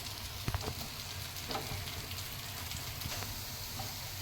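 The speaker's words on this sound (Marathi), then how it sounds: "आता हे आपण शॅलो फ्राय होऊ देऊयात" Rajma tikki patties shallow fry in oil in a pan, a steady low sizzle and crackle with occasional soft pops, fairly quiet and continuous with no talk.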